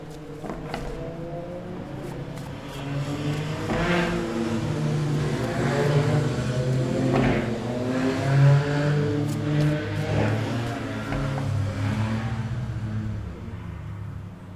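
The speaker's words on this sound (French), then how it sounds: "oh, toutes ces motos." Several motorcycles pass by in a steady stream, their engines droning and rising and falling in pitch at moderate distance.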